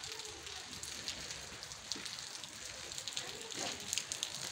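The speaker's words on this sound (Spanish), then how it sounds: "está lloviendo" Rain falls steadily on the narrow streets of Guanaceví, a gold-mining town in Durango, as a constant soft hiss with scattered close patters and drops throughout.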